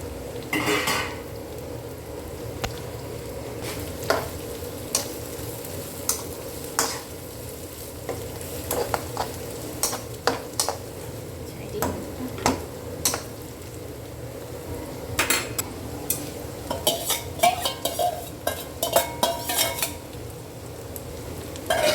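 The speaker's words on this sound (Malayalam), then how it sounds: "ഇഞ്ചി വെളുത്തുള്ളി എല്ലാം അരിഞ്ഞ് വെച്ചേക്കുന്ന എടുത്ത് തട്ടി" Chopped ginger and garlic fry and sizzle in a pan for prawn pickle, with steady crackling under repeated scrapes and clinks of a spoon stirring against the metal, close and continuous throughout with no talking.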